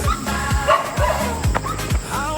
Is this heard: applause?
no